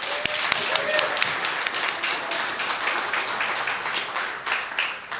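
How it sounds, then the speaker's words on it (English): Audience applause at a golf tournament's evening reception, a steady wash of clapping from a crowd that continues throughout, with a brief whistle early on. "So give yourselves a round of applause."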